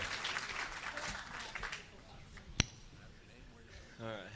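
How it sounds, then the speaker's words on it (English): Applause from an auction college audience for a student auctioneer, strongest at the start and thinning out, with a single sharp clink midway and brief talk near the end. "how about a round of applause for this young man, Dylan?"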